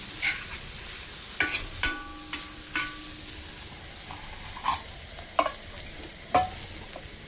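Cauliflower curry being stir-fried in a pan, a steady low hiss under a series of sharp spatula scrapes and taps spaced irregularly across the clip, close and alone with no talking.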